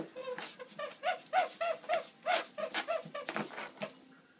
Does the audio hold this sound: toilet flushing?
no